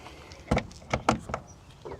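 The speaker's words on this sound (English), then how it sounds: "Got a door latch here." Metal door latch on a custom off-grid camper trailer with aluminum steps, giving a few sharp, close clicks and clunks spread over two seconds, with no talking.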